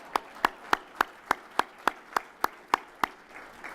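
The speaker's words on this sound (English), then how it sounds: "we'll do a special round of applause for you" About eleven sharp, evenly spaced claps ring out one at a time at a steady rhythm, close and loud, like a single person clapping slowly.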